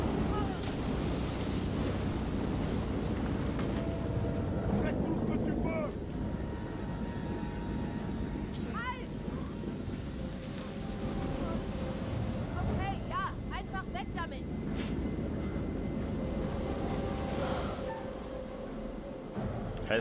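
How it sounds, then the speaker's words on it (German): A storm rages at sea in the horror video game Man of Medan, with loud, continuous wind and crashing ocean waves rumbling throughout while a player talks over it. "Alter, was ein Sturm."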